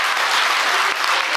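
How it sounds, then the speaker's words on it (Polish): Theatre audience in Jawor applauding an ensemble of women performers, a loud, dense and continuous roar of many hands clapping close by, with no speech over it. "Ogromne brawa dla tego zespołu,"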